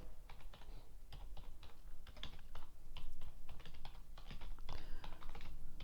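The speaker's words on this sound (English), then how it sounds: "I'm just typing what I'm saying." Steady, fast typing on a computer keyboard, quiet and close, with irregular clusters of key clicks continuing for several seconds and no talking.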